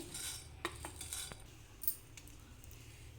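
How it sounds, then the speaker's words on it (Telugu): Coriander seeds being roasted in a heated pan while preparing masala for a fish curry, with a few clinking spoon-against-pan scrapes and taps over a quiet low sizzle, faint and close, no voices. "ప్యాన్ వేడెక్కిన తర్వాత ఇలా ధనియాలు వేసుకోవాలి"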